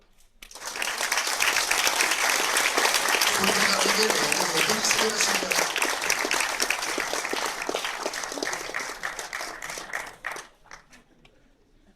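Audience applause at a French web-show season launch event, a dense sustained burst of clapping from a crowd that swells quickly and holds for about ten seconds before fading, with someone speaking over it.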